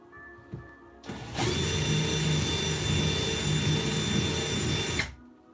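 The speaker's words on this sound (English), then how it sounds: "And again, just using my countersink." A power drill with a countersink bit whirs loudly for about four seconds in one steady burst, starting and stopping sharply, close by.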